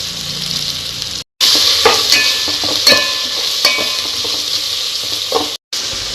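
Palak paneer paste frying in a pan, a steady close sizzle with scraping stir strokes and clinks, the hiss briefly cutting out twice.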